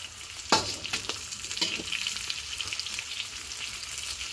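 Pork and onion brown in a frying pan, a steady crackling sizzle punctuated by a few sharp spatula scrapes and knocks, close and fairly quiet with no talking.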